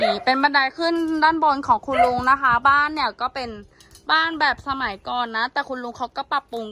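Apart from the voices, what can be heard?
No everyday noise stands out behind the speech.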